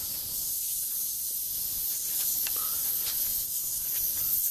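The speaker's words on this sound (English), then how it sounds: "I think you can probably hear the air coming out there." A steady, thin high-pitched hiss of air escaping from a tire valve stem, constant and fairly quiet, with a few faint clicks and a brief squeak.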